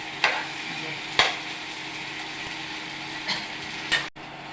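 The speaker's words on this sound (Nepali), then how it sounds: "अब यो प्याज, टमाटर, यो सबै मसला भुटियो।" Onion, meat and spices frying in a pan with a constant loud sizzle, broken by a few sharp scrapes and knocks of stirring, up close and without speech.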